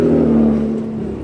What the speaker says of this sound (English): That thing sounds like it needs a fucking muffler.